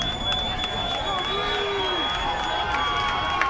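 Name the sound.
football crowd cheering at a high school game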